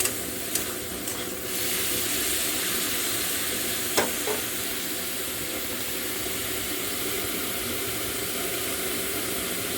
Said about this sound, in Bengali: দেখুন মাংসটাকে পুরোপুরি ভাজা করব